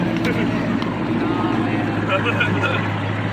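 A car engine runs, heard from behind the vehicle as a steady, loud, low rumble with a constant droning hum. It continues without letup while people talk nearby.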